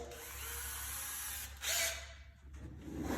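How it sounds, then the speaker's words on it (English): A power drill whirs steadily at low volume, drilling a small pilot hole in a 2018 Polaris RZR XP 1000, with a short, louder burst of grinding partway through before it settles back to a constant hum. "So we'll grab a drill, and what you want to do is you're going to want to work up"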